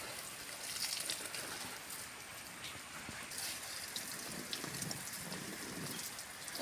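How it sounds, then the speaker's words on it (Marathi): Water sprayed over garden plants where small coriander seedlings are sprouting: a continuous, fairly faint hiss and patter of droplets falling on leaves and soil, steady throughout with no talking. "इथे पण थोडं थोडं पाणी मारतोय"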